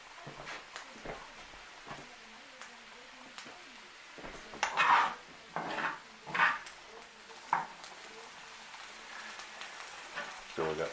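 Pasta shells being stirred in a pan while cooking, giving a few scraping, clattering strokes with a soft background hiss; the stirring comes in short irregular bursts.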